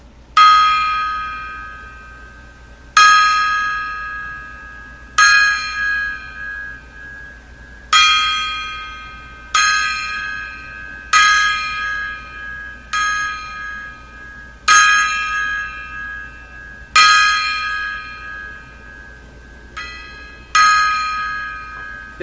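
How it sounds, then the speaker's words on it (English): A gong or bell struck ten times at a slow, roughly even pace as a salute, each loud ringing hit decaying before the next. "A 10 gong salute."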